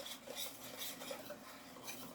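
Wet banana cake batter is stirred in a bowl, a quiet repeated scraping swish of utensil against the bowl with faint clinks, close up, with no talking.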